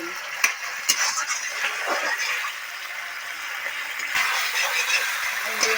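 Spice masala being stirred and fried in a pan with salt and a little water, a continuous sizzle broken by scattered metallic clinks of the spoon against the pan.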